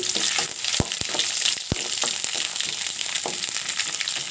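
Peanuts, dried red chillies and garlic fry in a pan for a beans stir-fry, giving a steady close sizzle with a few sharp clicks and scrapes of stirring and no talk.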